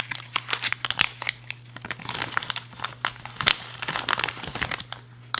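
Crinkling cellophane wrapping around a brand-new County Comm Maratac copper CR123 flashlight, a close, continuous run of crackles and crunches with sharp bursts over about five seconds, with no talking.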